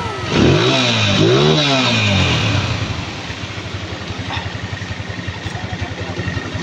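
A Honda TMX155 motorcycle, noisy and leaking, revs hard twice close by. It then settles into a rough, pulsing idle.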